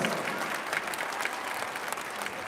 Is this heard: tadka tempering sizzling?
no